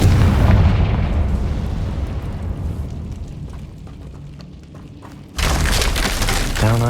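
A Confringo fire spell explodes in Hogwarts Legacy, a loud booming blast with a rumbling tail that fades over several seconds before a second sharp burst cuts in near the end.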